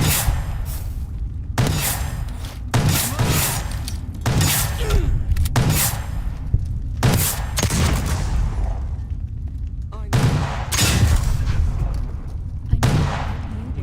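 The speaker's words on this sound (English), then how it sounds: "You guys are using really weak shotguns." Repeated shotgun blasts in the video game Fallout: New Vegas, sharp loud reports fired in irregular bursts with brief gaps, each with a short booming tail.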